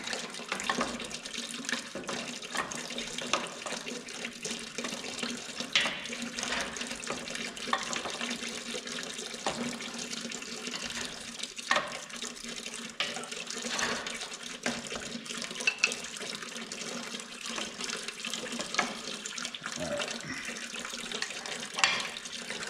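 Coolant draining from a hose on a Minneapolis Moline GVI tractor, a steady spattering trickle of liquid that runs continuously and fairly close throughout, with no talk over it.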